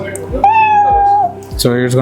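A recorded cat meow sample played back: a clear, drawn-out meow followed by the start of another, loud and close, with speech-like tones around it.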